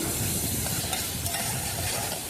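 Ginger garlic paste sizzles and spits in hot oil in a pan while mutton keema curry is cooked. The frying hiss is loud, close and continuous, with faint stirring scrapes.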